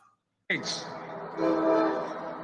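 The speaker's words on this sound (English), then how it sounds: "And here comes the train that he tried to make sure didn't continue to run." A commuter train passing during an outdoor campaign rally in Michigan: the clip opens nearly silent, then the sound cuts in as a loud rumbling rush with a horn-like tone riding over it, up close and steady.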